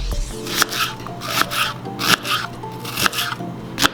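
A knife chops onion on a cutting board with a quick, uneven run of sharp, close taps, about a dozen cuts, with no talking.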